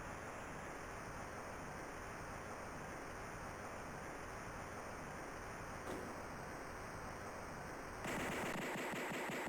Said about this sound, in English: Spacebar will fire my weapon.